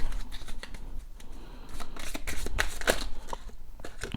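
Tarot cards are shuffled by hand up close, with repeated riffling and papery slaps in irregular bursts, alone with no talk.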